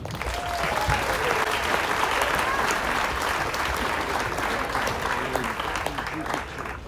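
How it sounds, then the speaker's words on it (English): A lively audience applauds to welcome a storyteller at an evening event on a cruise, with loud, dense, continuous clapping, scattered cheers and crowd noise that holds steady before easing slightly at the end. "Please give a warm welcome and a round of applause to Jamie!"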